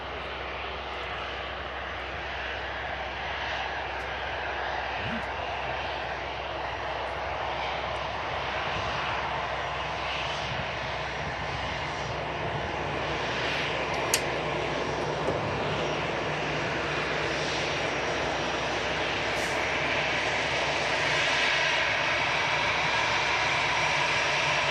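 Airliner taxiing at Manchester Airport, a steady engine whine and rumble holding at an even loud level throughout, heard from nearby outdoors without speech.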